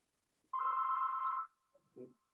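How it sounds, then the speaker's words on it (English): A telephone bell rings once in a single sustained burst of about a second, clear and fairly close, then a short soft knock follows in an otherwise quiet room. "Somebody's phone is ringing."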